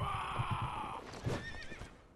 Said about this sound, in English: How am I supposed to fight a guy on a horse?